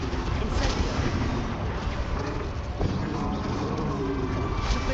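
Game spell effects in Hogwarts Legacy, Incendio and Bombarda, make a dense, continuous roar of blasts and fiery rumble that fills the whole stretch with no clear gaps.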